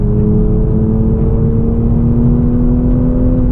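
Toyota GR Supra engine droning steadily on a race circuit, a loud, close, continuous mid-pitched hum with a constant tone under light braking and acceleration.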